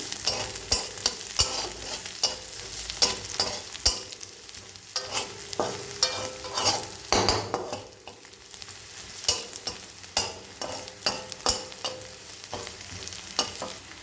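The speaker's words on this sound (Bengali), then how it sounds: "এইভাবে দিয়ে তারপরে দিয়ে দেবেন লঙ্কা গুঁড়োটা, ভাজা ভাজা করে নিন।" Chopped ginger and chili powder fry in a pan for lentil dal, a soft sizzle broken by repeated scraping stirs of a spoon, close and fairly quiet, with no talking.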